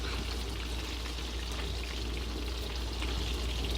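Scallops sear in a hot pan with a dense, constant, loud crackling sizzle that holds steady throughout with no pauses.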